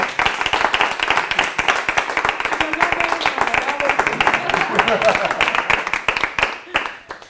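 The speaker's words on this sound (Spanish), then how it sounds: "Muchas gracias, un aplauso." Seminar attendees at a Lego Serious Play innovation session break into lively applause, many hands clapping rapidly and unevenly, close and loud for about seven seconds before tapering off at the end, with some voices mixed in.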